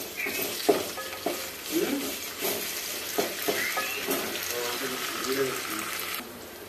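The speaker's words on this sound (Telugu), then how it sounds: "అల్లం పేస్ట్ నూనెలో వేగినాక పసుపు వేసుకోవాలి." Ginger garlic paste and onions fry in oil for a ridged gourd and drumstick stir-fry, with a steady close sizzle broken by stirring scrapes and a few brief splashes of water.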